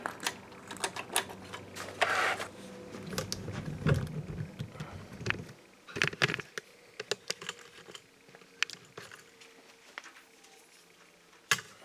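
Keys are typed on a computer keyboard during the repair of a Sony VPL-AW15 Bravia LCD projector, making a steady run of close, sharp clicks with brief pauses and a louder burst near the start.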